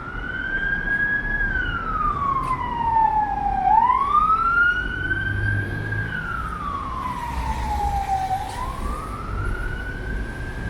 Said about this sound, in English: Impossible to film in London without sirens at some point.